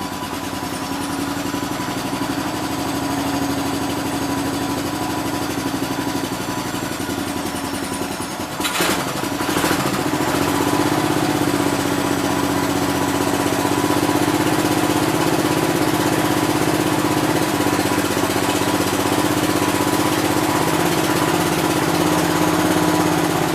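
A 1969 Gravely 430 tractor engine cranks and catches, then settles into a steady, loud idle with a constant mechanical drone close by; a brief burst of cranking interrupts the run partway through.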